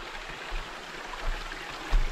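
A countryside river flows steadily with a soft, continuous rush of water, faint and fairly distant, with no voices.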